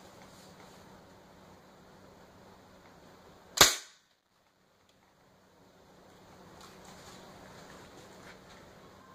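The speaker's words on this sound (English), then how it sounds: "The first shot is going to be the steel BB." A Daisy Powerline 880 air rifle, pumped ten times, fires a steel BB: one sharp, loud crack partway through, then quiet ambient background.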